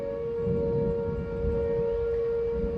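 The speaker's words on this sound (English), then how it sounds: "David from Maryville, Illinois, sent us this video of the tornado sirens going off." Tornado warning sirens wail across the Metro East area near Maryville, Illinois, during a spring storm, a steady loud outdoor tone holding over rumbling wind and background noise.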